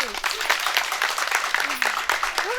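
A crowd at a community event applauds, a dense wash of clapping that stays even and moderately loud throughout, with a voice faintly audible underneath.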